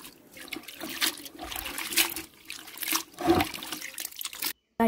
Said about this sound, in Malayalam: ആദ്യം നമുക്ക് മുന്തിരി നല്ല വെള്ളത്തിലൊന്ന് കഴുകി വൃത്തിയാക്കി എടുക്കാം.